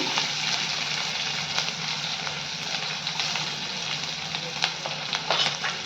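Chopped green chili and crushed garlic frying in oil with mustard seeds and cumin, a continuous soft crackling sizzle with occasional faint stirring clicks, fairly quiet and without talk.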